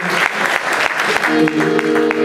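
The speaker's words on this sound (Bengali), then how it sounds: "একটা হাততালি দেবেন সবাই মিলে" An audience at a 2019 Udichi New York tabla graduation program gives a round of applause, dense, close clapping with a voice speaking over the end.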